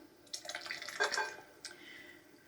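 Wet ingredients pour into a bowl of dry ones for batter: a brief, soft liquid splash and trickle lasting about a second, followed by a faint second plop, heard close and quiet with no talk.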